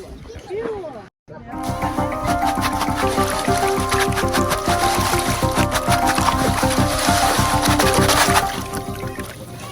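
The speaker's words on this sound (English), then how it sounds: "Let's do our first rinse." Gravel is rinsed and sloshed in water while sifting for benitoite crystals in California, giving a loud, continuous watery churning and rattling that runs for several seconds after a brief gap, with voices talking over it.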